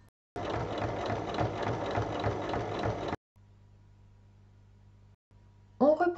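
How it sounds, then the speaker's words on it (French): A sewing machine topstitches along the seams of a small bag, running in one steady mechanical burst of about three seconds before stopping, followed by a low hum and a brief sharper sound at the end. "Et on va maintenant surpiquer de chaque côté des coutures."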